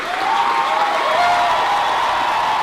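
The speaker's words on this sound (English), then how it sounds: "It was just this non-stop cheering." A large crowd at a college graduation ceremony applauds and cheers without a break, a dense, steady roar of clapping with a high voice-like whoop rising through it.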